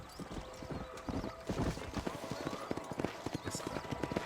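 Several horses gallop in Red Dead Redemption on Xbox 360 with a dense, rapid clatter of hooves close by, a whinny among them, and game characters talking over the running.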